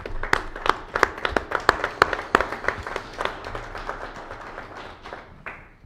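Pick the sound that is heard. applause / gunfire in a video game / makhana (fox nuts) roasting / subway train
applause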